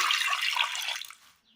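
Water pours steadily from close by into a pressure cooker holding soaked green peas, a splashing rush that tapers off and stops.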